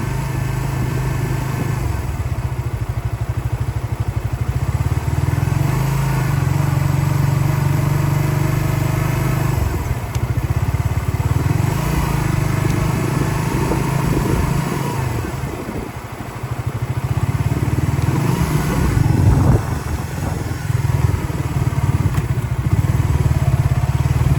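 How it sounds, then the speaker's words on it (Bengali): A motorcycle cruises in fourth gear along a road through Sylhet tea gardens, its engine drone steady and loud throughout with a slight dip in level midway, and no talk. "বাইকটা চার নাম্বার গিয়ার দিয়া"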